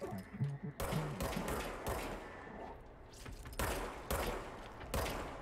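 Player's gun fires in the video game Control as a series of sharp, fairly loud shots in a spaced rhythm, with brief bursts repeating across the stretch.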